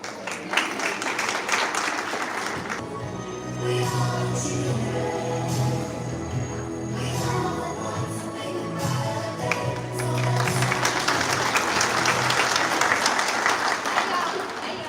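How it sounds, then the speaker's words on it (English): At a school English Day event, an audience applauds 4th grade students about to sing. Bursts of clapping open and close the stretch, and a tonal, musical passage with voices sits between the two rounds of applause. "Let's clap for them."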